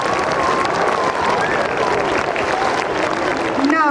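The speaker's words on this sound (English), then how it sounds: "Please give them a big round of applause." Applause from a school audience after a Christmas performance at St. Thomas School, Khalilabad, a dense crowd wash that stays steady and fairly loud, with some cheering and voices mixed in.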